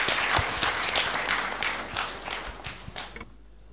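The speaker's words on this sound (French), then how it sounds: "Sous vos applaudissements, s'il vous plaît." Audience applause at a graduation ceremony for hydrology engineers, a dense burst of clapping from a crowd that fades out after about three seconds, leaving near silence.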